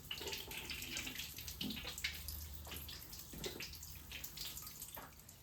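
Water splashing and running over a cleaned spot during a home deep-cleaning routine, a continuous faint gushing wash with small splashes and drips, steady throughout.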